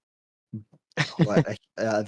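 A man vocally mimics a fart with a few short, close blurts of varying length, some sputtering and some drawn out, delivered as a mouth noise rather than a real one.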